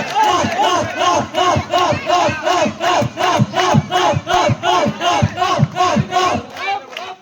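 A large crowd at a Garudan Thookkam hanging competition chants in a loud, rhythmic unison, roughly two beats per second, a pulsing collective shout that carries on without a break.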